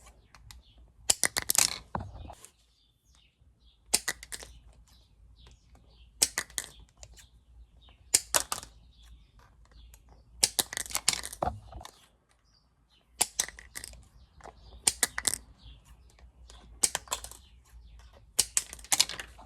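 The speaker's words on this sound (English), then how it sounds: "Right now, I'm just cutting these off." Plastic pieces are snipped off a tackle box insert in bursts of sharp, close clicking and cracking, several clusters separated by short quiet gaps.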